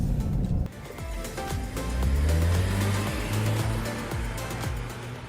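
A Toyota Prius plug-in hybrid accelerates, its engine note climbing in a smooth rising whir with a brief dip before swelling again, moderately quiet and steady.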